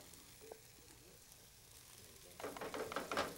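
A meat mixture with onions is tipped into a frying pan, where a quiet low hiss suddenly turns into loud, crackling sizzling for the last second or so, close up.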